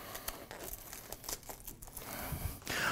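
A plastic rubbish bag crinkles and rustles inside the holder of a Kampa Chieftain camp kitchen, a series of close, uneven crackles and scrunches that grow fuller toward the end.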